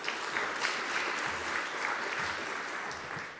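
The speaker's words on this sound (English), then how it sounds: "Maybe let's give them another round of applause." An audience at a net zero upstream processing technology conference session claps for the presenters, a soft, steady round of applause from a distance with a few low thumps.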